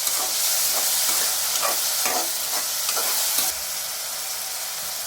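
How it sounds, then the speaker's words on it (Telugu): Broad beans and tomato curry with green chillies sizzles in hot oil, a steady hiss from the pan. A spoon scrapes and stirs in irregular strokes, and the frying noise drops a little partway through. "కొంచెం ఆయిల్లోనైతే వేసుకోవాలి"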